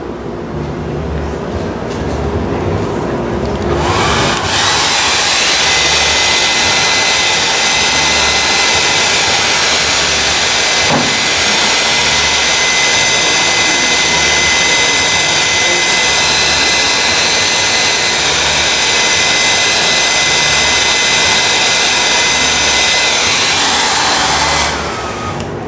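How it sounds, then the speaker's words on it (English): A loud, steady blowing roar like a hair dryer runs for about twenty seconds, starting and stopping abruptly, with nothing else audible. "Let's get the hair dryer."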